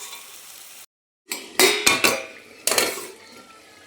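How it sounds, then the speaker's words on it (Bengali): A spatula scrapes and clinks in a pan as a poppy seed and mustard spice paste is stirred and fried, giving a few sharp metallic strokes over a faint sizzle after a brief silence. "পোস্ত আর সর্ষে দিয়ে কষিয়ে নিচ্ছি মশলাটা।"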